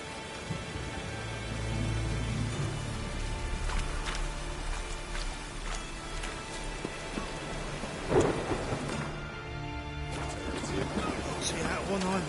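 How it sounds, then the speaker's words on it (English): A thunderstorm in a PS4 video game, with steady heavy rain hissing throughout and a sharp crack of thunder near the middle, over a low rumbling background. "A storm, damn it."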